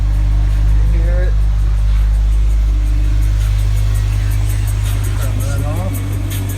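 A Jeep Wrangler JK engine fitted with a new cold air intake and throttle body spacer idles loud and steady with a deep low hum, while someone talks over it.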